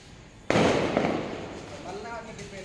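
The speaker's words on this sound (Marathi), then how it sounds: "त्याचे लवंगी बॉम्ब फोडतोय" One loud lavangi bomb firecracker bursts nearby with a sharp bang and a lingering crackling decay, while people talk in the background.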